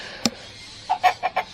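Backyard chickens clucking: one sharp squawk, then a quick run of four or five short, rhythmic clucks close by, with no talk.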